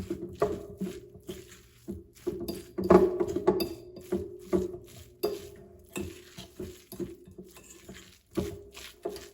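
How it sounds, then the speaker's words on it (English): A spoon stirs and scrapes salmon cake mixture seasoned with Himalayan pink salt in a bowl, making irregular clinks and scraping knocks with occasional louder bumps over several seconds, close up and with no voices. "I'm gonna stir this around before I add the flour."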